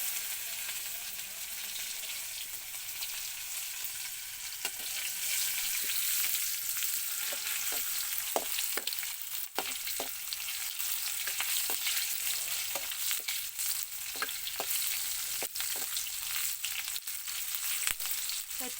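Steady loud sizzle of food frying in hot oil on a stove, with scattered sharp crackles and pops throughout, close and continuous for the whole stretch.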